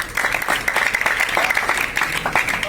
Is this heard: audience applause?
yes